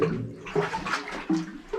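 A small flow of water trickles and gurgles in a drainage canal, with soft splashy pulses and burbling close by, no talking.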